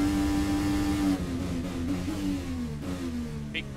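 An IndyCar race car engine at the Toronto street circuit screams at high revs in sixth gear down the back straight. The pitch is loud and sustained, then drops as the car lifts off, with no talking.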